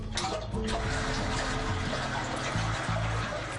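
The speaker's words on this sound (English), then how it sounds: "Go ahead and flush that commode." A toilet flushes with a continuous rushing, trickling water sound, steady and moderately close, filling and draining without any voices.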